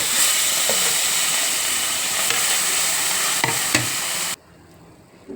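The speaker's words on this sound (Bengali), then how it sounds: "এরপরে একে একে সব কটা এইভাবে মাছগুলোকে ভেজে নেব।" Rupchanda fish frying in hot oil makes a loud, continuous sizzle and hiss that stops abruptly near the end, leaving quiet.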